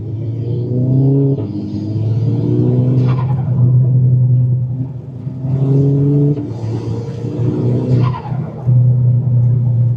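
An MK6 GTI fitted with an ECS Tuning diverter valve spacer revs hard from inside the cabin in two loud bursts, each rising in pitch and then dropping off, with a deep rumble between the revs and no voices.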